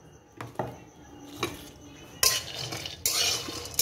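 Peanuts being roasted in a pan for sweet laddus, with sparse clinks and scrapes of a spoon stirring against metal, then two louder bursts of rattling and scraping near the end.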